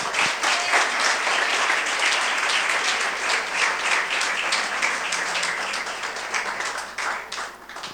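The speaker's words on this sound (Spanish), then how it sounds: "denle un aplauso" A church congregation applauds with steady, dense clapping that stays loud throughout and fades slightly near the end.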